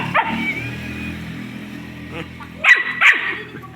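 A dog barks a few times close by, sharp yips toward the end of a short indoor play session, with a person talking lightly in the background.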